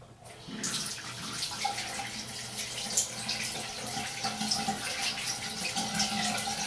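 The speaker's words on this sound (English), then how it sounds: "Let me rinse my hand off." Water runs steadily from a tap as a hand is rinsed under it, a continuous close splashing hiss that starts abruptly and carries on to the end with no talking.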